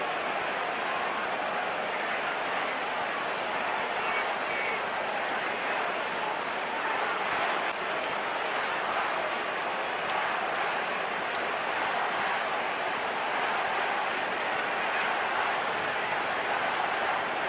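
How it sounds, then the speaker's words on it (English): The stadium crowd at the 2000 AFL Grand Final between Essendon and Melbourne keeps up a dense, continuous roar that stays loud and even throughout, with voices blended into the wash. "Listen to the crowd."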